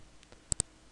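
Two quick, crisp computer mouse clicks, close and faint, a double click in an otherwise quiet room.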